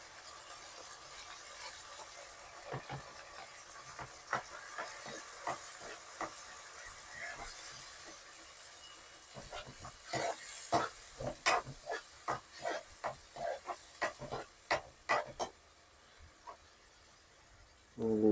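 Chili, garlic and ginger paste fries in a pan with a faint, steady sizzle, followed by a run of sharp clicking and scraping stirs that grow denser toward the end.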